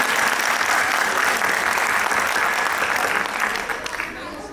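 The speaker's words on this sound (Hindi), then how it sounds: "एक बार जोरदार तालियों से बच्चों का स्वागत कीजिए।" A crowd applauds loudly to welcome children performing a street play about Dr. B.R. Ambedkar, a thick continuous clapping that softens slightly near the end.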